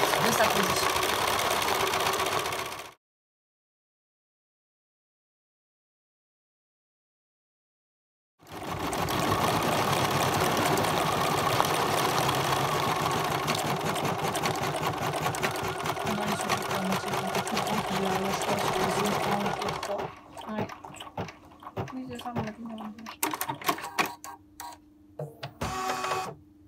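A Bernina embroidery machine with a Mega Hoop stitches a large design in a rapid mechanical whir, stops for several seconds, restarts and runs steadily, then slows into uneven bursts near the end.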